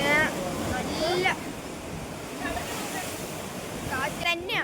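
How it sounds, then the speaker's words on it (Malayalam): Strong seaside wind at Kanyakumari roars steadily close to the microphone with surf-like rushing noise, while people talk over it at the start and end. "കാറ്റ് തന്നെയാണ്."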